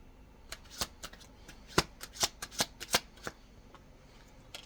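A deck of oracle cards is shuffled nearby, a quick irregular run of soft slaps and riffles, quiet and alone.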